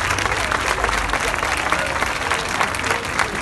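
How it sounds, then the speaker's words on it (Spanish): A café inauguration audience breaks into steady, dense applause that fills the room for a few seconds, close and continuous with crowd murmur underneath. "un aplauso para Chilapa"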